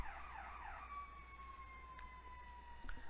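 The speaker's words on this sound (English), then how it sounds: "if you can hear it, it's the ambulance" An ambulance siren wails in a fast warble, then settles into a long falling tone, distant and faint with no talking.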